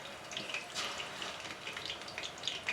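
Shish tawook chicken pieces fry in medium-hot oil, a steady close sizzle and crackle with soft popping throughout, no talking.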